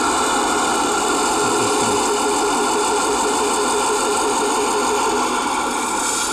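A homemade radio-controlled Ural 4x4 truck's sound module plays a continuous engine running tone, steady and fairly loud throughout with no voices.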